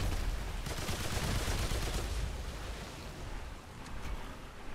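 Dense, continuous gunfire from a Remnant 2 boss fight, a loud wash of rapid shots and impacts that eases slightly toward the end, with no talk.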